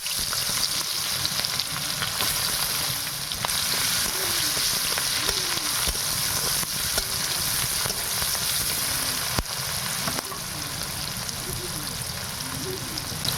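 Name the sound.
onions frying in hot oil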